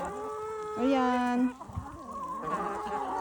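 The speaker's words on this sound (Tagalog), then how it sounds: "Ang aking mga manok." Backyard chickens clucking and squawking, one call rising loud and drawn out, mixed with a voice speaking nearby.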